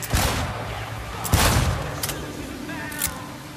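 Gunfire at a shooting range in Cyberpunk 2077: several sharp, loud shots in quick succession over about three seconds, with a faint voice under them.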